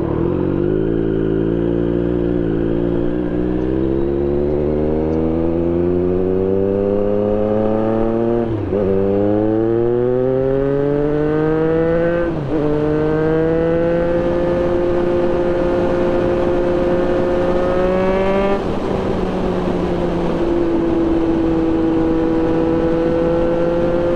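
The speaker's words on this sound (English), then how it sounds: "I'm going to enjoy this ride, ring out the engine a few times" A 2024 Triumph Street Triple motorcycle engine revs hard through rising gear pulls while riding, loud and close, pitch climbing steadily then dropping sharply at each shift, repeated several times over a continuous roar.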